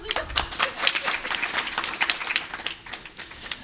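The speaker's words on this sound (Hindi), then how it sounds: "तालियों की आवाज़ तो आनी चाहिए कम से कम" A youth Mother's Day gathering breaks into brisk audience applause, a close, crackling patter of many hands that swells early and then slowly thins out over a few seconds.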